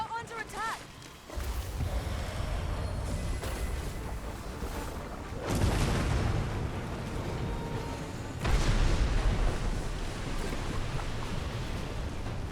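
Heavy booming blasts in a Dragon's Dogma 2 battle, several deep rumbling explosions rolling over a constant roar of fighting, with someone talking over them.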